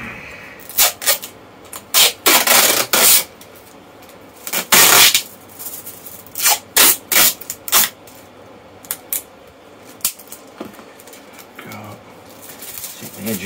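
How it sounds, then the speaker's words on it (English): Tape is ripped from the roll and pressed onto a makeshift foil heat shield for a hard drive, loud tearing bursts alternating with quieter rubbing and smoothing, close up with some talk. "Then tape it on."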